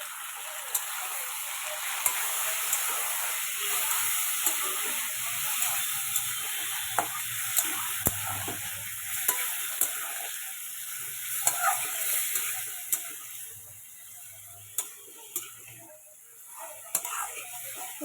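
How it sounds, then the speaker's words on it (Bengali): Spice masala with tomato purée and a splash of water sautéing in a pan, a steady loud sizzle and hiss with light scraping stirs and small pops throughout. "এবার মশলাটা না খুব ভালো করে কষতে হবে।"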